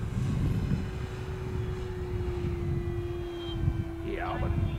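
A 1.5 m Focke-Wulf Fw 190A RC model warbird flies at a distance, its electric motor giving a faint steady whine that rises and falls slightly as it passes, with people talking nearby.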